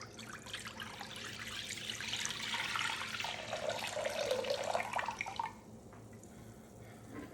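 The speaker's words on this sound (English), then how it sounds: "I'm going to pour in our chicken stock." Chicken stock pouring into a Dutch oven, a steady close liquid gush that rises and swells for several seconds, then cuts off, leaving a quieter room hum.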